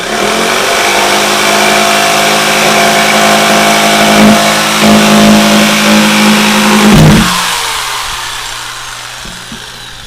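A jigsaw blade cuts a hole for a fish tank upgrade, a loud continuous buzzing whine that holds steady for about seven seconds, then drops off and tapers away.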